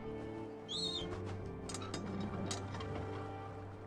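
A falcon in the VR game Falcon Age gives one brief chirping call near the start, followed by clicking game sounds and a steady low hum of background ambience.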